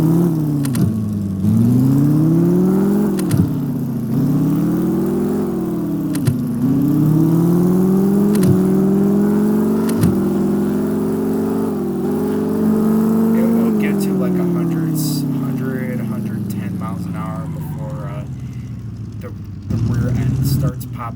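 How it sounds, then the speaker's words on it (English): A deep Cummins-style manual diesel engine in Stormworks revs up and down repeatedly in waves, loud and steady, with pitch rising and falling through gear changes and a voice speaking over it. "I also gave it modded crankshafts to make it sound deeper because it's supposed to be a Cummins technically"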